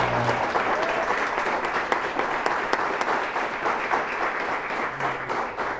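A church congregation applauds continuously during a worship service, dense and steady clapping throughout with a faint murmur beneath it.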